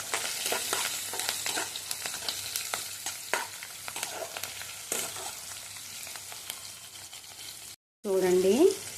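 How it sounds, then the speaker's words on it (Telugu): Onions and green chillies with turmeric frying in a hot pan, a steady crackling sizzle with stirring scrapes throughout, broken by a brief gap and a short clatter near the end. "చూడండి పచ్చిమిర్చి ఆనియన్స్ బాగా వేగాయి కదా"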